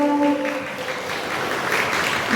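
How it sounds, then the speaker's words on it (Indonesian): Indoor gathering at a market event in Semarang giving a round of applause, a steady field of clapping that swells slightly toward the end, preceded by a brief sustained tone at the start. "Kita beri tepuk tangan yang luar biasa."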